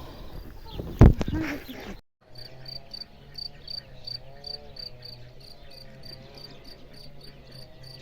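After a loud brief clatter, a cricket chirps in a regular pulsing rhythm in a vegetable garden, steady and moderately near, with a low hum and faint background noise.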